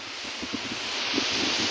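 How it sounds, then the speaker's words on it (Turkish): Steady broadband wind noise rushing across the microphone, with faint rustling and low buffeting bursts throughout. "Evet, rüzgar, havada rüzgar var. Hava rüzgarlı."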